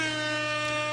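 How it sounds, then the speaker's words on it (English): A loud, blaring air horn sound effect plays as a livestream super chat alert, one sustained brassy honk lasting about a second. "I feel like I haven't heard the air horns in a couple weeks now."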